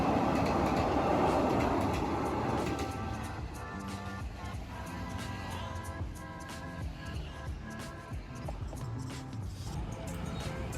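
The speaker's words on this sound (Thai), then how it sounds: "เคลื่อนขบวนผ่านสะพานจุฬาลงกรณ์ หรือสะพานดำนะครับลาดบุรี" A KiHa 183 diesel train crosses the Chulalongkorn (Black) bridge at Ratchaburi, Thailand: a loud rolling rumble with rhythmic clattering wheel beats and metallic squeals, easing slightly after the first few seconds and continuing throughout.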